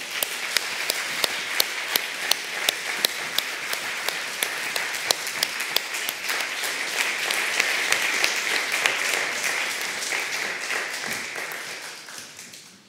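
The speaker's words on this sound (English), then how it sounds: "We can give Professor Hahn another round of applause" A lecture audience applauds steadily for about twelve seconds, dense clapping filling a large hall before tapering off at the end.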